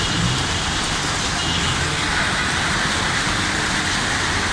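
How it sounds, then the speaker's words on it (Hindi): Heavy rain pours down steadily in Mansehra after earlier snowfall, a loud, dense, unbroken hiss of falling water and drops striking surfaces, with no talk over it. "बारिश एक दफ़ा फिर से तेज़ हो चुकी है।"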